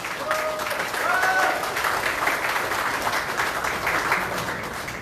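Audience applause at a Korean political party ceremony, a sustained, even round of clapping from a crowd heard at moderate distance, with a voice briefly audible over it.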